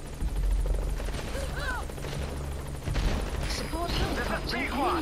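A support helicopter arrives in the Metal Gear Solid V video game, its rotor thumping low and steady amid booming gunfire and explosions, with chirping game effects and bursts of radio-style voices.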